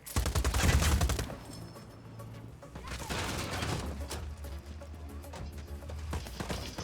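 Rapid bursts of gunfire crackle in Just Cause 4, dense loud volleys at first, then lighter scattered shots and rumbling over a steady low drone, with sharp pops returning near the end.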